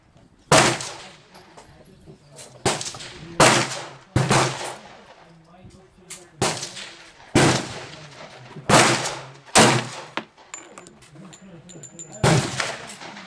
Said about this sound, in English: we're going to be shooting a 15-round string with 230 grain hollow point HST Federal